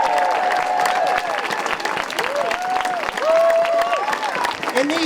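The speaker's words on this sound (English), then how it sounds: "Let's give a big round of applause for all of our organizers and all the different groups that sponsored" A crowd at an outdoor rally in Hudson, New York applauds the organizers and sponsoring groups, steady clapping mixed with cheers and whoops rising and falling over the span.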